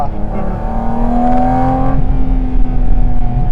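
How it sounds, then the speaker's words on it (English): A Porsche GT4 RS with PDK gearbox revs hard toward the red line, a loud, sustained engine note rising steadily with a shift-like change partway through, close and continuous. "When you're able to put it in PDK Sport or manual and take it to the red line, it's just, I hope you can hear."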